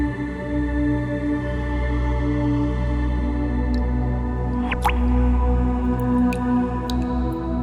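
Water drips a few times in a quick cluster, each drop clear and close, over a steady low droning hum that runs throughout.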